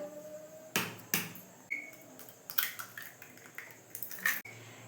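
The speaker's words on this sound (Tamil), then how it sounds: "இப்போ வந்து முட்டையை வந்து இந்த வெங்காயத்தில் உடச்சி ஊற்றிக்கலாம்" Eggs cracked and poured onto sautéed onions in a pan for an omelette bajji: a run of sharp, irregular taps and clinks of shell and utensil against cookware, close but quiet, with no voices.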